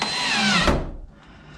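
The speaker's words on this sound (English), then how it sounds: "when drilling a hole saw like this into your kayak" A power drill with a hole saw cutting into a plastic kayak hull gives a loud steady whir for under a second, then stops abruptly and winds down into quiet.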